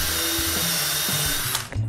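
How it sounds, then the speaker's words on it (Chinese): A cordless electric drill bores a hole in wood, giving a loud, steady mechanical whir with a shifting pitch and brief clicks near the end. "好，这样就可以钻孔了，"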